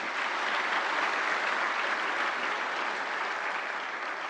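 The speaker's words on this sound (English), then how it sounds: "Let's give a round of applause." Applause at a formal event fills the space as a steady, even roar of clapping from a large crowd, heard from some distance and sustained without pause.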